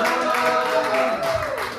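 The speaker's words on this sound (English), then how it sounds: "round of applause for all the actors. Round of applause for the headliner, Linda!" Brief audience clapping at a London comedy night at Farr's, a short burst of applause for the actors and the headliner, fairly close and steady.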